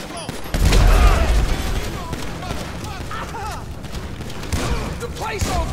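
Gunfire in the video game GTA V: a burst of shots at the start, then a continuous chaotic firefight with booming impacts under excited shouting voices.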